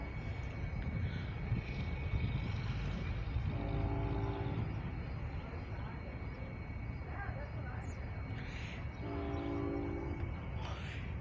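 A CSX intermodal freight train with a distributed power unit rumbles steadily nearby, its horn sounding two sustained blasts several seconds apart over the continuous roar.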